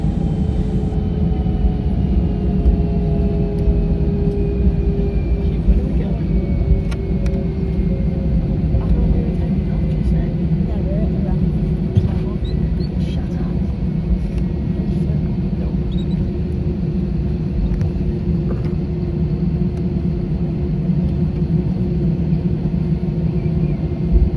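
Inside the cabin of a Jetstar Airbus A320-200 lining up on the runway, a loud, steady low engine rumble and hum fills the scene, with faint clicks and rattles on top.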